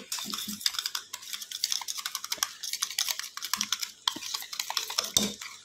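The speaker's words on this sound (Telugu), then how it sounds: "ఇప్పుడు దీన్ని బాగా బీట్ చేసుకోవాలి మనం, ఇందులోనే పెరుగులోనే బీట్ చేసుకోవాలి." A spoon beats spices into yogurt in a bowl for dhaba-style chicken curry, giving quick, rapid clinks and soft slaps in a busy, irregular rhythm, close by with no talking.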